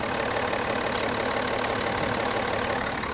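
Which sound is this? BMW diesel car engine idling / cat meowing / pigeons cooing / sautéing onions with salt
BMW diesel car engine idling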